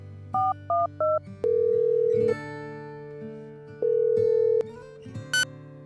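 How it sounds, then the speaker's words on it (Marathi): A phone keypad plays a quick series of electronic dialing tones, some short beeps and some longer held tones, close and clear with nothing else heard. "त्याने लगेच खिशातून त्याचा फोन काढला आणि एक नंबर डायल केला"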